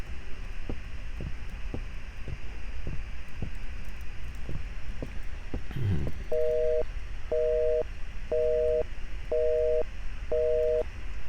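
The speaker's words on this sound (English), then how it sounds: "The abandoned house still has phone service," Telephone busy signal in an abandoned house in the horror video game Blink: The Last Night: a series of soft clicks and taps, then five evenly spaced two-tone beeps repeating at a steady rhythm over faint background hiss.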